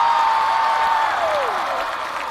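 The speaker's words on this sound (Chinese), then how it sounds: "谢谢大家的掌声" An audience at a stand-up comedy show applauds in a steady, fairly loud wash of clapping that holds across the moment, with a faint tone gliding downward behind it.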